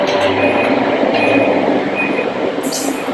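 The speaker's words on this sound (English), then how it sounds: "So that's the Maglev." A steady, loud rumbling rush of the Shanghai Transrapid maglev train moving at speed, continuous throughout with a faint high hiss near the end.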